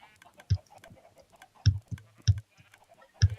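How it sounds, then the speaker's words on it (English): Chickens on a Minecraft chicken farm give several short clucks spaced irregularly over a few seconds, fairly close, with soft clicking between them. "Oh, that's a lot of chickens."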